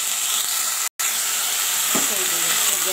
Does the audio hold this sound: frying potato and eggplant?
yes